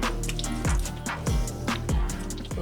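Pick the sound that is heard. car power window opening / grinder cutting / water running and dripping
water running and dripping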